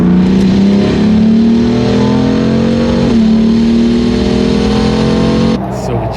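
A Jeep on new tires pulls away and speeds up on a road test drive, its engine note climbing steadily and loud throughout before cutting off abruptly near the end.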